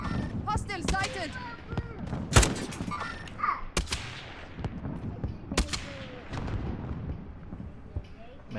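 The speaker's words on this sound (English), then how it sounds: "Man, knockout shooting explosive rounds." Explosive-round gunfire in Call of Duty Warzone, heard as scattered heavy booms and bursts of shots against battlefield noise, with voices talking over the action throughout.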